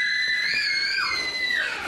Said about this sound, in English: with the screams of children echoing in the background